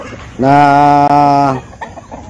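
Breeding chickens on a Filipino farm make a loud, sustained, close call lasting about a second. Softer clucks and rustling follow.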